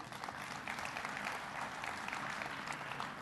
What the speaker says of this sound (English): Give Roy a round of applause.